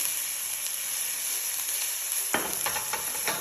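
Onion, ginger and garlic fry in a pan with a steady sizzle, then a stirring utensil scrapes and clatters through them in several quick strokes near the end.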